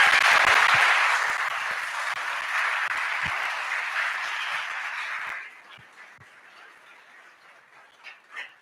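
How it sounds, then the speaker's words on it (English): Audience applause at a trial advocacy tournament awards ceremony for a coach, a dense steady clapping wash that fades after about five seconds, leaving a few scattered claps. "So let's give him a round of applause."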